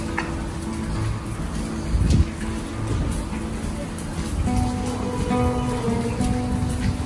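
Steady rain falls around a covered street walkway on a cold, windy day, a continuous wash of drops and patter with a brief louder burst partway through and faint traffic in the background.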